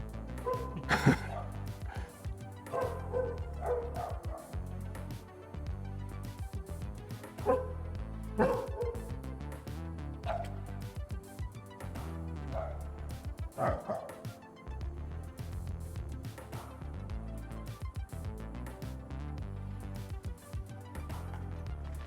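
Several dogs bark and yip repeatedly at close range, overlapping in irregular bursts throughout.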